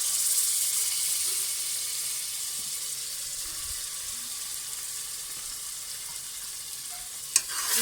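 Garlic frying with medium-browned onions in a hot pan gives a steady bright sizzle throughout, close and even, with one sharp clink near the end and no talking.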